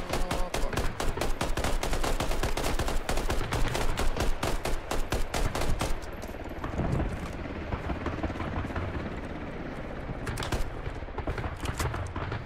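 Rapid automatic gunfire in the video game Squad, dense loud bursts of shots in close succession for several seconds, then sparser, more distant single shots and short bursts over a steady background rumble.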